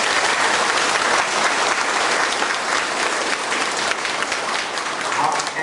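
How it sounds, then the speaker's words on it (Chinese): An audience breaks into loud, sustained applause at a Buddhist teaching session, dense clapping holding steady throughout at close range. "大家热烈的掌声"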